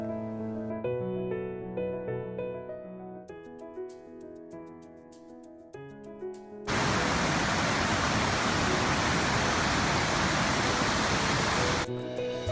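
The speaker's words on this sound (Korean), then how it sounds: "산은 더욱 고요하고 작은 폭포 소리가 뚜렷이 들린다" Soft melodic music plays, then gives way to a steady rushing hiss of a small waterfall by a lake in Plitvice for several seconds before the music briefly returns.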